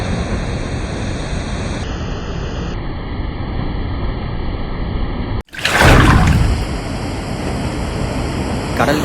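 A wave crashes against the rocky shore at Chaliyam beach in Kozhikode, a single loud surge of broad roaring spray midway through, with steady music playing throughout.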